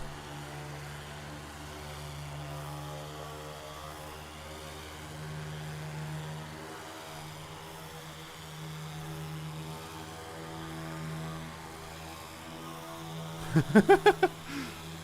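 A propeller aircraft engine in the game Flyout drones at a steady low hum that shifts slightly in pitch as RPM changes, with a short burst of clicking near the end and no talk.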